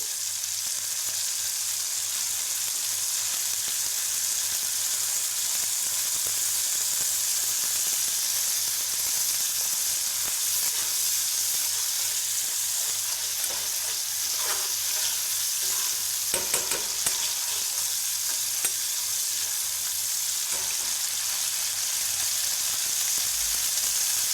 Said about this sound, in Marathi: टोमॅटोच्या पेस्टला चांगलं तेल सुटेपर्यंत भाजू द्यायचं.